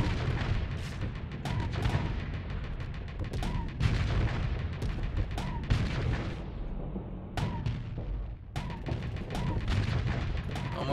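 Missiles striking a ship in the StarSector space game: a rapid series of sharp explosive impacts and booms, loud and close, repeating irregularly with brief lulls and no talk over them.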